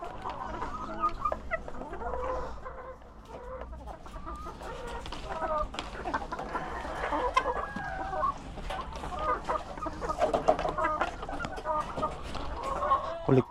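Hens cluck and squawk inside a chicken coop during egg collection, several birds calling at once in an irregular, close-up chorus with scattered louder cackles.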